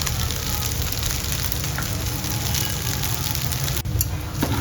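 Fried rice with spring onion being stir-fried over a high flame, giving a steady, loud sizzle and crackle with light scraping throughout, briefly dipping near the end.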